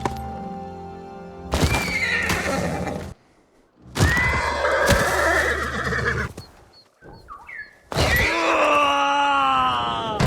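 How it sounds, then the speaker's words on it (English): A horse in the Ghost of Tsushima video game neighs and whinnies repeatedly as it is struck by arrows, loud, shrill calls in three bursts with groaning and brief pauses between them. "I had to run away on my horse Sora, but in the process Sora was hit with a few arrows and died"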